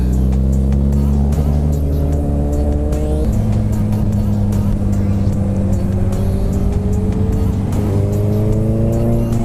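A 2008 Suzuki Hayabusa motorcycle under way, its engine droning loud and steady throughout and climbing in pitch through the gears, with a shift around the midpoint and another rise near the end, heavy wind rush over it.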